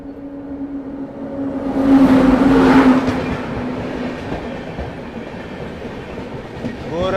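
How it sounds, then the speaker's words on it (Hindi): Gorakhdham Superfast Express, running from Bathinda to Gorakhpur, approaches and passes with a loud swelling rumble and rattle that peaks early, then settles into a steadier rolling noise. "यहाँ सामने से आ रही है भटिंडा से चलकर गोरखपुर की ओर जाने वाली गोरखधाम सुपरफास्ट एक्सप्रेस"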